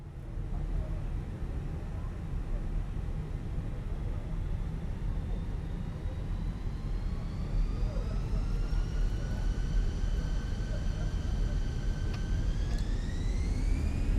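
Fenix A320 jet taking off in Microsoft Flight Simulator, a broad engine roar with rising turbine whine that climbs steadily in pitch as thrust builds, continuous and loud throughout.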